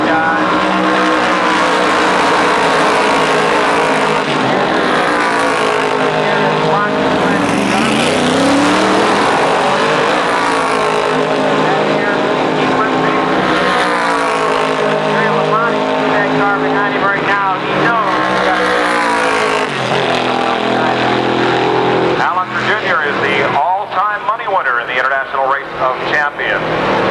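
IROC race cars at full throttle at Watkins Glen, a loud, continuous engine roar that rises and falls through shifts and passes, with a commentator talking over it.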